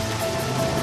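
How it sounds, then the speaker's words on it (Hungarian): Heavy rain falling during Audi car testing, a dense, steady hiss of downpour that stays loud and unbroken throughout the short moment, with no voices. "Erős eső."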